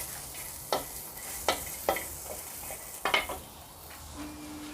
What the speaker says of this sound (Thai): เรานำมา คั่วนะคะคั่วไฟก่อนนะคะ